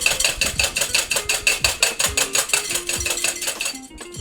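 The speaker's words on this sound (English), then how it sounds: "I am turning the whisk while beating it at this time" A hand whisk beats cream into white foam, rapid regular clicking strokes against a bowl, about four per second, close and steady with no talk.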